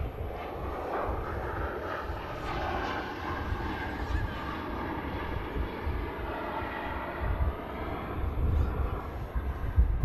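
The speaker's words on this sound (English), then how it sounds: "Emirates A380 is going to be taxiing out, joining the queue to depart" An Emirates Airbus A380 taxis at Manchester Airport, a steady distant jet-engine rumble and whine with wind buffeting the microphone and a voice talking over it.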